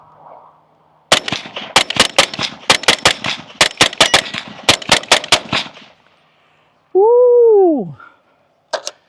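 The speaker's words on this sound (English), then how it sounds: "Let's do a little bit of a rapid fire for you guys." A 300 Blackout rifle set up for hog hunting fires a rapid string of about fourteen sharp, loud, evenly spaced shots outdoors. The shots are followed by a brief rising-and-falling tonal whoop and one last faint snap.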